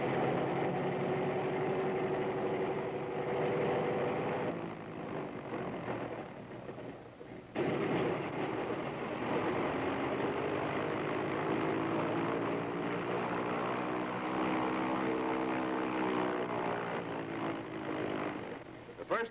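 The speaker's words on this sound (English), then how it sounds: "The captain checks his motors, first one, then the other." Piston propeller engines on an American Airlines Flagship airliner run up one after the other before takeoff, giving a loud, steady droning roar that dips briefly and then surges back up to full power, with a voice talking over it.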